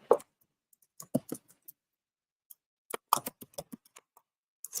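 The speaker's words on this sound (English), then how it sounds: "I'm just typing in." Keys on a computer keyboard tap in short, irregular clusters, soft and close, with quiet gaps between bursts and no talk.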